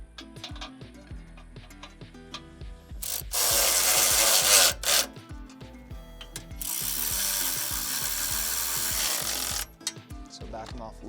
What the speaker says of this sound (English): before you start tightening everything down